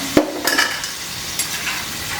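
Crispy sweet corn pakoras are lifted from hot frying oil with a steady sizzle underneath, a sharp scrape near the start and a few utensil knocks and rustles over a couple of seconds, close and fairly loud.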